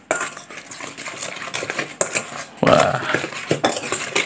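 A utensil scrapes and clatters against a bowl while stirring spinach chip batter seasoned with chicken stock powder, irregular close clinks and scrapes with a louder burst of mixing near the end; a brief voice exclamation is heard.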